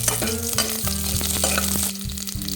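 Green chillies and peeled garlic sauté in a pan with a dense, loud sizzle and steady stirring scrapes; close, continuous, with no voices.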